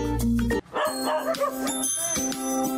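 Many mixed-breed dogs kept together bark and yip close by, with whimpering mixed in, in a busy, overlapping cluster of dog voices.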